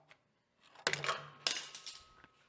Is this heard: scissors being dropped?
yes